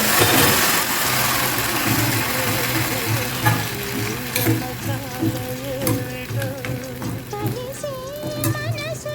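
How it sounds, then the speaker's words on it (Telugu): Madatha kaaja pastries frying in hot oil, producing a loud, dense bubbling sizzle that continues throughout, with occasional clinks from a utensil. "ఇవి చక్కగా వేగిపోయినాయండి చూసారా మంచి కలర్ వచ్చేసినాయి"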